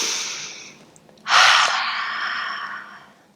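A single deep breath taken during a children's tree pose yoga exercise: a long, close, airy inhale that rises sharply, holds, then slowly fades, with no talking.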